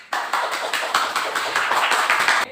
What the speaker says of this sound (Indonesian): Kita berikan aplaus untuk diri kita sendiri